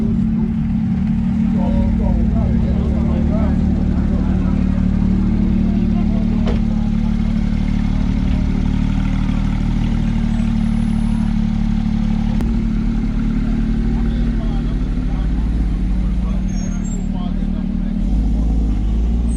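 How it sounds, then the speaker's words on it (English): Porsche 911 Turbo and other supercars on a rally drive, heard as a continuous loud low engine drone with road rumble and occasional clatter, steady throughout under brief talk. "There's that 911 turbo we were following."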